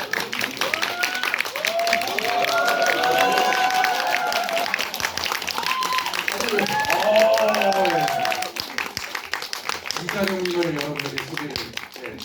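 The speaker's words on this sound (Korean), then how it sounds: "큰 박수로 부탁드립니다." Audience applause greeting a guest at a film premiere event, steady clapping carrying under a voice that speaks over it, then thinning toward the end as talk continues.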